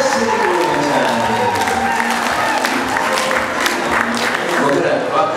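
Wedding guests applaud and cheer as a dense, continuous crowd clatter that holds steady throughout, with voices mixed into the noise.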